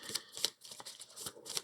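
A deck of game cards is shuffled in a few quick, quiet riffling bursts, soft and close, with brief pauses between them and no talking.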